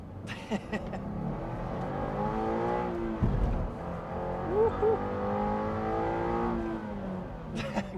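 A Toyota GR86 with a JDL UEL header and stock catback accelerating hard in first gear, a loud rising engine note sweeping upward over several seconds, close by, with voices briefly audible around it.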